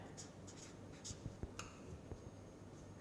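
A pen or chalk scratches and taps in short strokes while equations are written by hand, close but soft over a steady hum of room noise.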